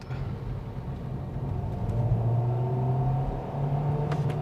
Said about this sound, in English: pressing the accelerator all the way to the ground